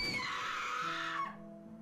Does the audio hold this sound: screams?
yes